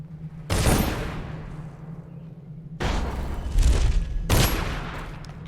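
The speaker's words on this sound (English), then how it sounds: "They just shooting someone." Gunfire in the stealth video game Dishonored: The Knife of Dunwall, three sharp, loud shots spaced a couple of seconds apart, each followed by a long echoing decay.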